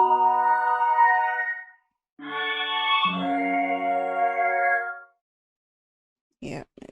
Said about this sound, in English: It's called a melodic vocal stack.